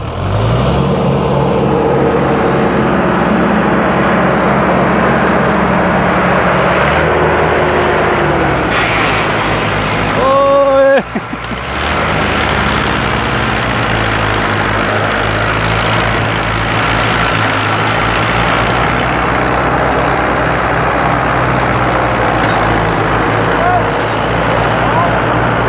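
Two Arjun 555 tractors deep ploughing a field with an MB plough, heavy diesel engines droning loud and steady throughout, with a brief surge near the middle; voices talk over the engine noise.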